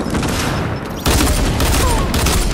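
Rapid gunfire in Fortnite at Tilted Towers, a dense loud fusillade of shots that jumps in intensity partway through, with no talk over it.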